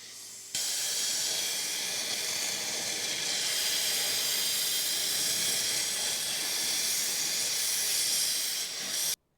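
A plasma cutter slices through the hub of a Zetor 25 tractor, a loud, steady, close hiss running almost without break for about nine seconds before cutting off abruptly.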